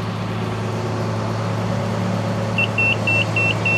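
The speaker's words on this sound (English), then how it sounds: "The next step is to turn the hydraulics on." A Keestrack B4 jaw crusher has its hydraulics switched on: a steady, loud machine hum drones throughout, and near the end a short series of high electronic beeps repeats at an even pace.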